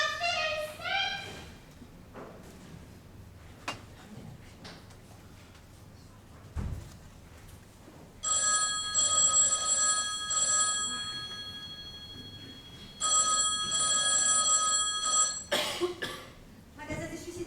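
In a shop, a telephone rings in two long electronic bursts, loud and close, alongside coughing, scattered sounds and brief speech.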